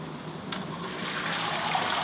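Beer wort drains fast out of a Grainfather G2G brewing system, a steady rushing, gurgling flow of liquid that grows slightly louder, with a brief clink near the start and no speech.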